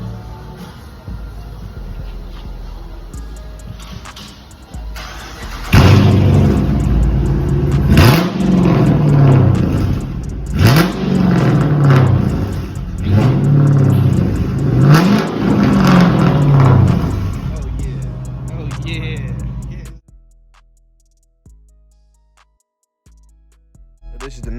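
A Dodge Charger R/T with a full straight-pipe exhaust and no mufflers, resonators or catalytic converters idles, then revs hard in several loud, rhythmic bursts before cutting off to near silence.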